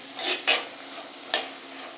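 Onions sauté in a hot pan for a Kerala chicken curry, giving a soft sizzle with three brief scraping strokes of a spatula, close and fairly quiet, no talking.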